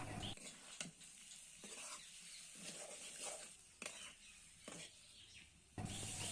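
Potatoes sauté with spices in a pan for aloo dum, a soft, fairly faint sizzle with periodic stirring scrapes recurring roughly every second.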